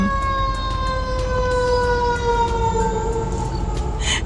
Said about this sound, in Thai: มีรถดับเพลิงมิ่งผ่านด้วย เราต้องให้ทางรถดับเพลิงก่อนค่ะ